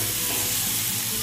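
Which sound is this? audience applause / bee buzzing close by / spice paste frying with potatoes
spice paste frying with potatoes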